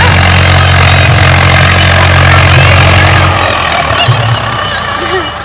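A tractor engine idles with a low, chugging hum that fades partway through, while people talk nearby.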